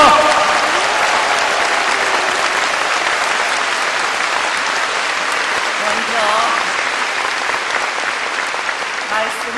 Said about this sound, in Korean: 더 힘찬 박수를 보내주시기 바랍니다.